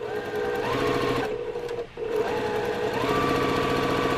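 Sewing machine stitching quilt half-square triangles chained one after another, a steady close whirring hum that runs almost continuously with one brief pause between pieces.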